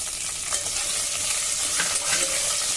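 Cashews and onions frying in hot ghee give a steady, dense sizzle that fills the whole moment, close and fairly loud, with faint scrapes of stirring beneath.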